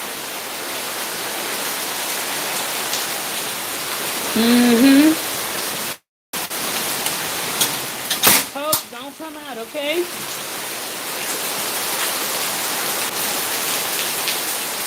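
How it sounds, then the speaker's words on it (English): Rain falls steadily in Haiti as a dense, even hiss that runs throughout, with brief talk and voiced sounds partway through and one short dropout. "It's raining. You can't see it, but you definitely can hear it."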